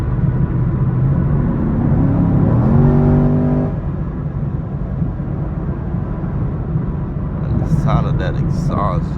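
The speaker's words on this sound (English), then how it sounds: "Sound of that exhaust just does it every time, bro." A Chevrolet Camaro SS exhaust drones on a late-night drive, a loud, steady low rumble heard from inside the car, with a brief rising engine note early on and faint voices near the end.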